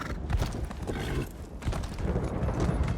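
A horse in the video game Elder Scrolls Online gallops with rapid clip-clopping hooves and a neigh, busy and fairly loud over game ambience.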